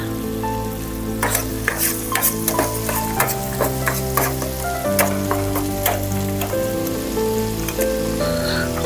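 Eggs fry in a pan at a morning breakfast camp setup in the jungle, giving off a steady, close sizzle with crackling pops throughout and no voices.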